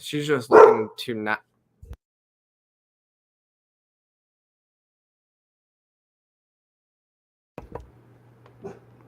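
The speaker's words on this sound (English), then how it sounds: "And of course she's barking in the stream." Someone speaks briefly, then long silence; a couple of faint dog barks or yips come near the end.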